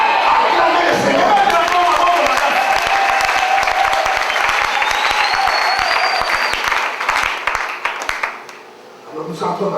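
A church congregation at a deliverance service in Kinshasa applauds and cheers loudly, with a dense roar of clapping and shouting that fades near the end; voices are heard through the crowd.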